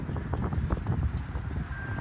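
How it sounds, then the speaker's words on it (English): Steady wind rushing and buffeting against the microphone, a constant low roar with gusty fluctuations and no voices. "it's a windy day on top of all that"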